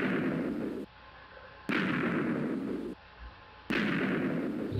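A rapid-fire TNT cannon in a video game blasts three times in a row, each loud explosion sustaining a roaring burst before cutting off, with a short quiet gap between blasts.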